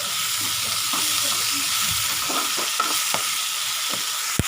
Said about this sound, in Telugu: ఇది ఉడికించాం కాబట్టి దీన్ని ఆయిల్లో కొంచెం ఫ్రై చేసుకోవాలి